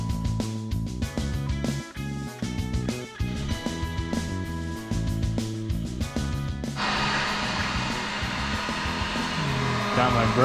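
A broken heat gun blows hot air to speed-dry fresh paint during car assembly work, starting as a steady whooshing roar partway through and continuing loud and close to the end.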